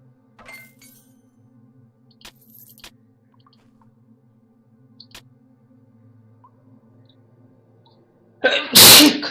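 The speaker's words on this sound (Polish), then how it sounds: "musiałem sobie kichnąć" A single sharp sneeze bursts out near the end, loud and close, after a long stretch of near silence broken only by faint clicks and a low steady hum, during a Titan Quest game session.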